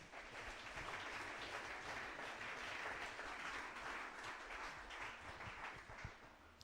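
A church congregation applauding in praise, a dense and steady wash of clapping that holds for several seconds without a break.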